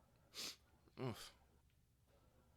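A person sneezes indoors, a short sharp burst followed by a second louder, voiced expulsion, both close and clear over quiet background.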